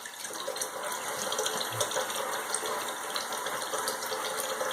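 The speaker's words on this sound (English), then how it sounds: "what I'm going to do now is to rinse my face off quick. Mind the sound of the water." Tap water running at a sink while rinsing the face after a wet shave, a steady faint splashing flow with small irregular gurgles, no talking.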